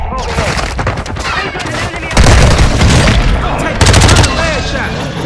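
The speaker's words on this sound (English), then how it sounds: "Hostile airstrike incoming." An airstrike hits in Call of Duty: Warzone with loud, close booming explosions in quick succession amid gunfire, while players talk over the blasts.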